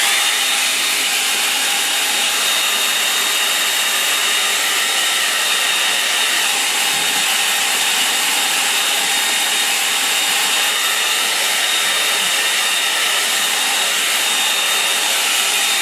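Hair dryer blowing on a watercolour painting, a loud, unbroken whooshing roar with a faint high whine that holds steady for the whole sixteen seconds, with nobody talking.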